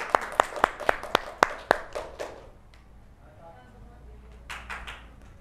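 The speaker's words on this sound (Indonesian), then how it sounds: "Tepuk tangan untuk kelompok 1." Rhythmic, sharp hand claps ring out in an even beat, about eight in a row, after a group is called up to present, then fade into scattered light clapping and a quiet room.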